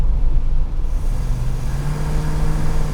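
A classic Jensen FF engine runs close and loud with a steady low rumble and a drone that rises slightly partway through, as though hesitating under throttle, with no voices.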